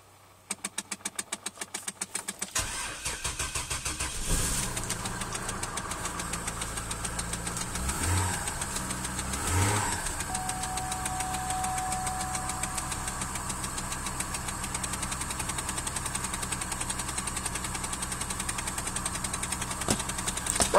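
A 2002 Chevrolet TrailBlazer LTZ with a 4200 Vortec engine and a weak battery cold-starts at 23 degrees. The starter cranks rapidly, then the engine catches with a loud roar that settles into a steady, close idle.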